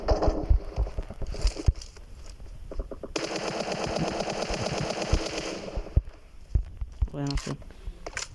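Rapid automatic gunfire rattles in a video game, with bursts and a sustained stretch of firing in the middle, while players talk and laugh over it.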